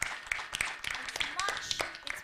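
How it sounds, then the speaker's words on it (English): An audience gives a round of applause at an Indian Army quiz, scattered claps rising and falling at a moderate distance, with talking mixed in. "So let's give him a round of applause."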